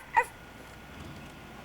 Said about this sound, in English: And there's the dog, you see?